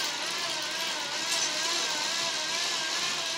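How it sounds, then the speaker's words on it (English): A pedal-driven alternator spins steadily while generating, giving a continuous, even whir with a faint mechanical hum that holds at a constant pace throughout, with no voices. "this alternator is operating in its comfort zone, where it's spinning at a reasonable pace"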